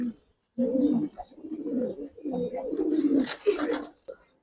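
A pigeon at a loft coos in low rolling bursts, close by, with people talking over and between the calls.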